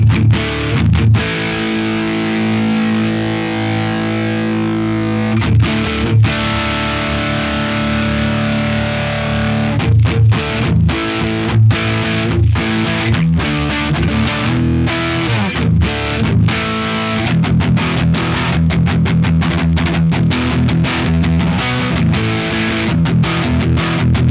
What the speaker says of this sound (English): The shred distortion is actually pretty crazy.